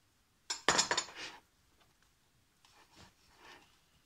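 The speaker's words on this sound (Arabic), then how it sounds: "ونخلط نخلط هاد الكيك ديالي ولا هاد النصف ديال الخليط" Zebra cake batter with cocoa powder and spreadable chocolate being stirred in a bowl: a quick cluster of sharp clinks and scrapes from a utensil against the bowl, then softer, sparse scraping.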